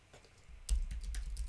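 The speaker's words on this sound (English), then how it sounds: "Typing is really what you're doing, but it feels weird to call it typing." Keys tapped on a computer keyboard in a quiet room, a faint start then a steady run of soft clicks close to the microphone with no voices.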